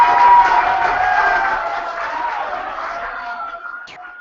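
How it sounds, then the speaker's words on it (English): An audience at a marriage and relationships talk claps and cheers loudly in a dense, sustained crowd roar that eases slightly toward the end. "stop clapping"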